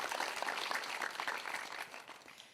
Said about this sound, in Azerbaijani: Tofiq Əmirlini alqışlayırıq.